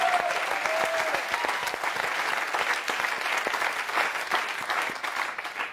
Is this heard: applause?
yes